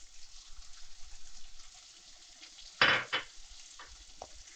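Ground masala is stirred into brinjal frying in a pan, with a faint low sizzle and one sharp, loud scrape of the spoon midway, followed by a few softer stirring scrapes.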